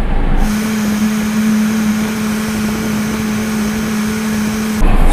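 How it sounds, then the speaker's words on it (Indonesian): The air conditioning blower of a Suzuki Ertiga car runs at fan speed 6 on a sunny day. It gives a loud, steady rushing hum with a constant low tone that starts and stops abruptly. "Sejauh ini sih biarpun blowernya cukup kencang ya. Ini blower yang nomor 6 berarti ya."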